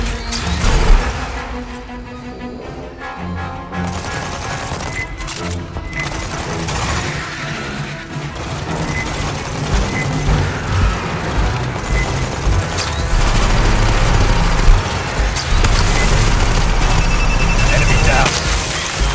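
A deployed turret in the video game Aliens Fireteam Elite fires continuously, producing dense rapid bursts of gunfire mixed with impacts and crashes that stay loud across the whole stretch.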